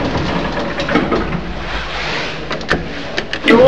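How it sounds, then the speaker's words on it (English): Schindler lift doors sliding open in a council office building, a steady mechanical whir with a few clicks and a louder thump as they finish moving, no one talking. "Doors opening."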